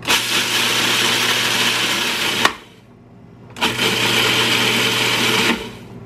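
A food processor grinds organic rolled oats into oat flour, a loud steady whirring motor that runs, cuts out for about a second, then starts again and runs steadily.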